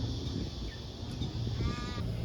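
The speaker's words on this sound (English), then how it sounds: "I can hear the crows again." Crows caw at Sydney Zoo, a couple of harsh, rasping calls rising over a steady background hum of the grounds.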